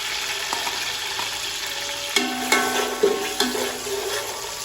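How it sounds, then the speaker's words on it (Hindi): Onions frying in hot ghee for beef yakhni pulao, a constant close sizzle broken by several sharp scrapes and clinks of a spoon stirring against the pot. "प्याजों को सुनहरा ब्राउन आने तक हम भूनेंगे इसमें।"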